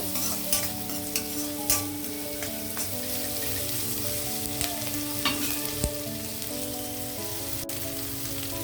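Chopped onions sizzle and fry in a pan for capsicum fried rice, a steady crackling hiss broken by occasional stirring scrapes, close by, with background music and no talk.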